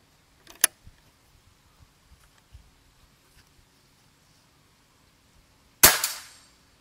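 A single sharp air rifle shot cracks out near the end, loud and close, after a few faint ticks and clicks in a quiet room.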